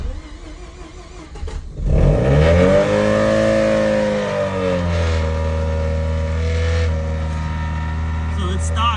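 A stock 1989 Mazda FC RX7 Turbo II with a rotary engine cranks and starts after a quiet moment, revs up hard, then settles into a loud steady high idle close to the microphone.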